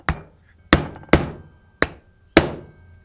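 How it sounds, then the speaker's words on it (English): Hammer driving a nail into a wooden armature for portrait sculpting: five sharp, loud, close strikes at uneven intervals, each ringing briefly before fading, with no talking. "Now hammering this is kind of tricky."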